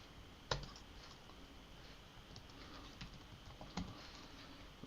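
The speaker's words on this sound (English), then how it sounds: "Inside this main div over here, we are going to type in login" Quiet keyboard typing while coding a login page in HTML and CSS, with a steady run of soft clicks and two sharper key taps, close up and without speech.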